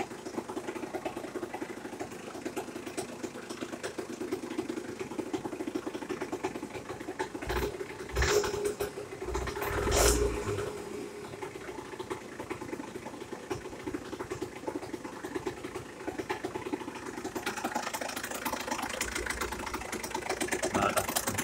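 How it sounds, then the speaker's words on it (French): A cold engine runs at a steady idle as its idle speed is raised, giving a continuous mid-pitched mechanical hum with a few brief louder bumps partway through. "je vais augmenter le ralenti"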